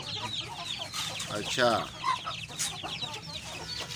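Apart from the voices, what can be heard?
Shamo breed chickens clucking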